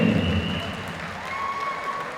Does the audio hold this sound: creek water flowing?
no